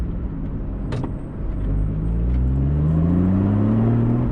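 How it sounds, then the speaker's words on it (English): A Porsche 981 Cayman GTS engine with sports exhaust idles and then revs up with a rising, throaty drone from a deep exhaust, close by and steady, with a faint click early on. "with the sports exhaust open, which is what I've got here, you hear it crackling and popping"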